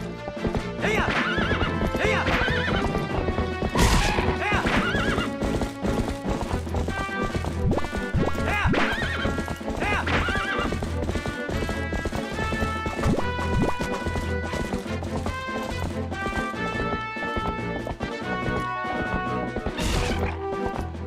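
Horse galloping and neighing in the video game Twilight Princess HD: steady clip-clop hoofbeats with repeated whinnies, loud and continuous over dense game music.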